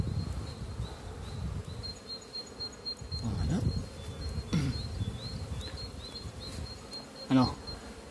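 Spring honeybees buzz steadily around beehive entrances at an apiary, a dense droning swarm hum close by with a few louder passes, under faint background noise.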